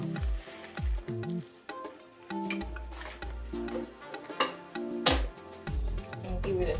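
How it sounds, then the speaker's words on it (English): Crayfish is stirred into Ayoyo soup in a pot: a spoon clinks and scrapes against the metal in a busy, irregular rhythm over a light sizzle, close and fairly loud. "And give it a stir."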